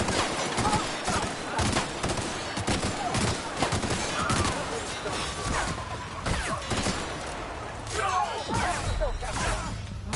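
Dense sci-fi gunfire in the game The Outer Worlds, rapid bursts and heavy impacts crackling continuously at close range, with shouted voices among the shots.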